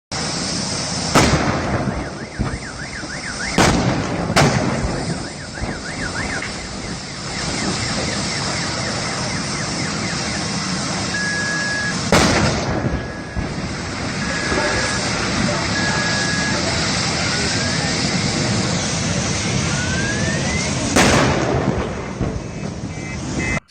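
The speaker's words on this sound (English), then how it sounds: "Here's a clip from China where they had their own battery fireworks show." Lithium batteries burning in China, bursting and crackling like a fireworks display: a steady roaring hiss runs throughout, punctuated by several sharp loud bangs and pops at irregular intervals, with whistling, squealing tones rising in between.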